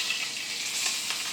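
Steak sizzles and spits steadily in a hot pan as it is flipped, a bright continuous frying hiss heard close with no talking.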